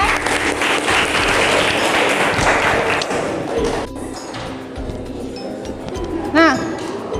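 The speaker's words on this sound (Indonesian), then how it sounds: "tepuk tangan untuk Aisyah." Applause from a classroom group fills the first few seconds, dense and steady, then thins out as a voice speaks and a bright ringing tone chimes near the end.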